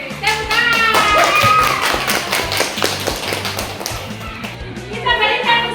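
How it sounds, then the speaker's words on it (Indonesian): A classroom of students claps their hands in quick, loud, scattered bursts up close, with children's voices mixed in underneath. "Hei, tepuk tangan."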